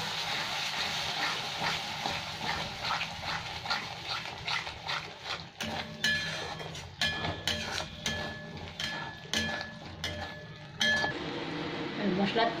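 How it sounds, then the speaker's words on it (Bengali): Spice paste with dried coriander leaves and a splash of water fries in a pan, giving a soft, continuous sizzle broken by the clinks and scrapes of a utensil against the metal. "এবার মশলাটাকে খুব ভালো করে ভেজে নিতে হবে।"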